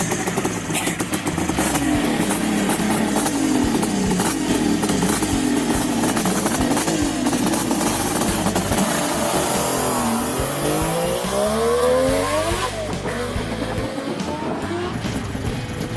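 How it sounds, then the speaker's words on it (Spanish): A Kawasaki H2 750 two-stroke motorcycle revs and roars, its sharp engine note rising and falling through several throttle bursts before climbing steeply in pitch, loud and close with no talking. "un rugido penetrante y feroz característico de los motores de 2 tiempos"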